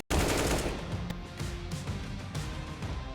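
Rapid gunfire in Counter-Strike on the Vertigo map during a pro match: a dense burst of rifle shots kicks in abruptly and keeps rattling, with overlapping fire from several guns.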